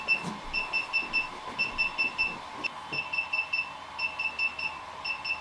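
Short electronic beeps from a DJI Inspire 2 drone remote controller repeat in quick clusters during a firmware update, bright and steady, with brief pauses between groups over a faint background hum.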